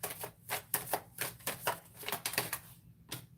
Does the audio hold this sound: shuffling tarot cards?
yes